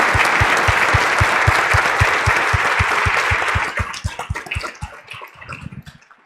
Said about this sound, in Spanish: se merecen un aplauso.